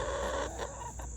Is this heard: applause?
no